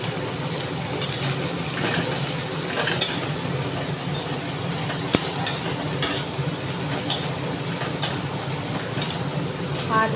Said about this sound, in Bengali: আমি ঢ্যাঁড়সটা কড়াই দিয়ে দিলাম আর হলুদ আর লবণ দিয়ে মানে একটু নেড়ে নেব।